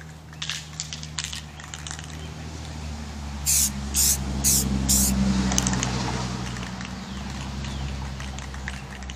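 Aerosol can of crystal clear enamel spraying outdoors in several short, loud hissing bursts close by, over a low steady rumble of wind or background noise.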